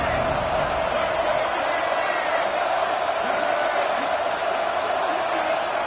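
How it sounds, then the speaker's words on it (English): A college football stadium crowd roars on third down to rally the defense, a loud sustained wash of cheering and yelling with no lull, while an announcer's voice runs over it. "Crowd getting this defense whipped up on third down."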